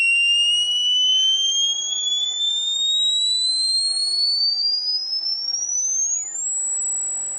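Electronic circuit emitting a loud, pure continuous tone that glides steadily upward in pitch before leveling off, with faint fainter harmonic tones sweeping alongside, no voices.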